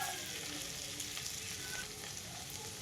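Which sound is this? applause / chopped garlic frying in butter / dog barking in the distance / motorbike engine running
chopped garlic frying in butter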